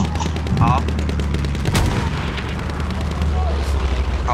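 Machine gun fire in the World War I shooter game Battlefield 1, rapid rhythmic bursts with booming explosions and artillery, loud and close, while a player talks over the action.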